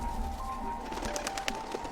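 Pigeons coo softly in a 1937 Shanghai drama scene, with low, rounded calls sitting under a steady background hum and a few faint clicks.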